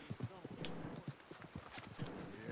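A horse's rhythmic hoofbeats clop steadily in Red Dead Redemption 2, with someone talking over them and a faint high tone running throughout.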